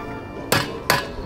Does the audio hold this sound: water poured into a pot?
no